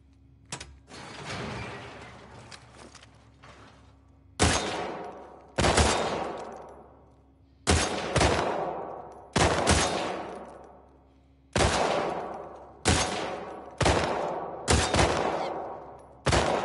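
Target-shooting competition gunfire in The Last of Us Part II: repeated sharp, loud gunshots in irregular bursts of two or three, each ringing and decaying, with faint mechanical gun handling between volleys.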